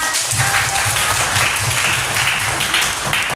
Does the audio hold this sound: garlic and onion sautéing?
no